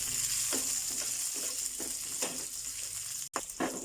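Curry leaves and tamarind frying in oil, a bright, steady crackling sizzle close by, with soft rhythmic stirring scrapes roughly every half second and a brief dropout near the end.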